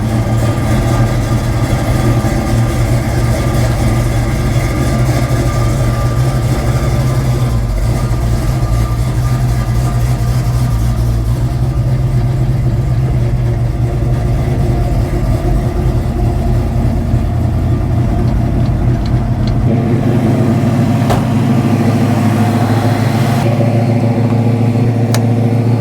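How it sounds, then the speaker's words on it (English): A car with a 347 engine runs with a loud, steady low rumble. The pitch shifts as it pulls away and drives along the road, and there is no talking. "Let's get the car fired up and get out on the road."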